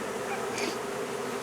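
A honey bee swarm gathering under a trampoline gives a steady, soft insect buzz throughout, fairly faint and continuous with no voices.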